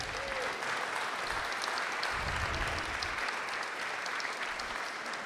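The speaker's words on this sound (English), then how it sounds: "Give Clive another round of applause for his solo there." A church congregation applauds a singer's solo during a live-streamed service, giving a steady, even round of clapping at moderate distance that carries on for several seconds without talk.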